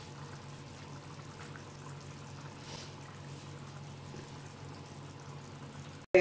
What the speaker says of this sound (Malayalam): വേറൊരു പാൻ അടുപ്പത്ത് വെച്ചിട്ട് എണ്ണ ഒഴിച്ചൊന്ന് ചൂടാക്കാം